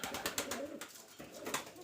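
A female Rajshahi Giribaj pigeon coos in soft, rolling low phrases nearby, against a hissy, noisy background.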